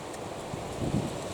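Steady wind rushes and buffets throughout, a broad continuous roar with slight gusty swells.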